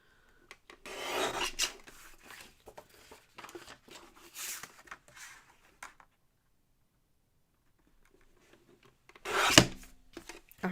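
Card stock being trimmed for a spring greeting card, quick close rasping strokes of a paper trimmer in a few short bursts separated by quiet, with a final sharp scrape near the end.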